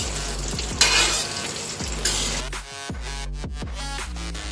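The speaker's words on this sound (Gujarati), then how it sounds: "હવે આપણે આને બરાબર શેકી લઈશું." Green chillies dry-roasting in a hot pan for Kolhapuri thecha, a steady loud sizzle and crackle with a few louder stirring scrapes, no voices.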